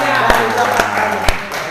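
Three slow, evenly spaced hand claps ring out at a sales training session, standing crisp over a steady background murmur.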